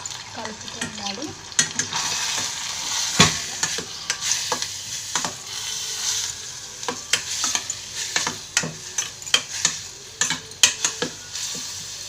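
Grated bottle gourd fries in a pan for kheer, giving a soft steady sizzle broken by repeated scraping clicks and taps from a spoon stirring against the pan, close up, with no voices.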